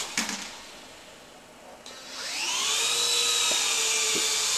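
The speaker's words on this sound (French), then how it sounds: "cet hélicoptère dégage tellement de souffle vers le bas que dès qu'on commence à vouloir atterrir, ça devient très problématique" A Silverlit Picooz Tandem toy helicopter spins up after a couple of clicks, its small motors rising into a steady high whine and close whir that holds loud and even.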